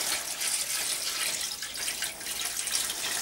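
Tap water runs steadily into a kitchen water jug, a continuous bright hissing splash heard up close and alone for about three seconds.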